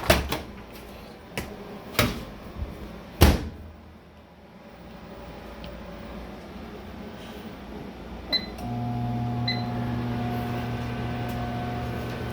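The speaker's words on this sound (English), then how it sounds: "Put him back in the microwave for a minute." A few sharp clicks and thumps, then a microwave oven's steady electric hum starts and drones on with a couple of faint beeps.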